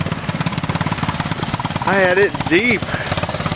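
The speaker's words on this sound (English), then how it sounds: "I'm gonna let it sit there and idle and maybe dry off." A 150cc GY6 engine in a mini monster truck idles after wading through deep water, a steady rapid chugging throughout with a voice talking over it.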